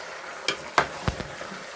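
Chicken and onion paste in a pan of frying spices give a soft background sizzle broken by a few sharp stirring scrapes and clinks against the pan.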